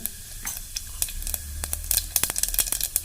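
Mustard seeds and cumin crackle and sizzle in a spoonful of hot oil for a rasam tempering, a dense continuous fizz with rapid popping seeds, close and steady with no talk.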